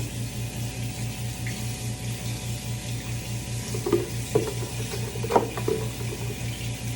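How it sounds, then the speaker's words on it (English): Hands are washed under a running tap, with steady water flow and a low pulsing hum beneath, then a few splashy, irregular bursts as the hands move through the stream. "I'm just gonna move this over here so I could wash my hands"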